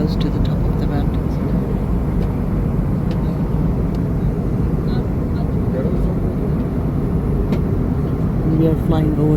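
Interior cabin roar of a passenger airplane in flight over snow-covered mountain peaks, a loud, steady broadband rumble with no change over its length.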